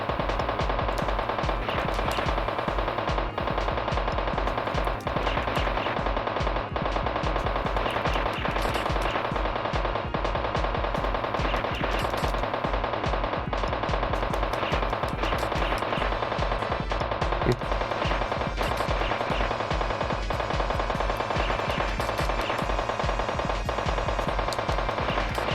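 Repetitive 16-bit gunfire from the SNES game Gunman's Proof, regular rapid shots looping over game music for a long stretch, loud and unbroken with no speech.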